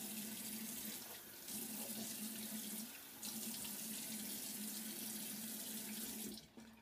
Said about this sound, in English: Let me wash this alum off.